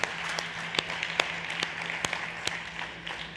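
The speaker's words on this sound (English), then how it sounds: "big round of applause for Sergio Orozco from RookieWise" Thin, scattered applause from a startup-competition audience at South Summit 2021, a few distinct claps popping out over a faint room hum for a few seconds.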